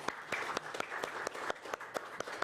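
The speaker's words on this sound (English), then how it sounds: "Let's give our candidates a nice round of applause." A candidate forum audience gives a round of applause, fairly faint and distant, with scattered individual claps standing out over a soft continuous patter, no voices.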